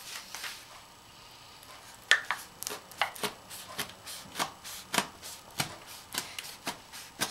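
A knife cuts through a tray of baklava, a quiet stretch and then a string of crisp, crackly pastry crunches at a steady pace, close by with no voices.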